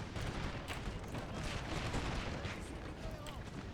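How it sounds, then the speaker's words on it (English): Cannon artillery firing in Napoleon Total War, a dense continuous rumble of booming shots from many guns blending into one thick roar of distant battle noise. "Yeah, so that's one cannonball firing every 2 seconds."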